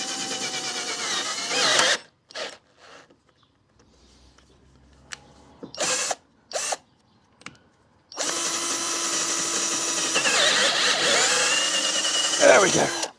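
A cordless drill whirs loudly as it drives an oversized blacksmith's drill bit, in short bursts separated by pauses, then a long sustained run.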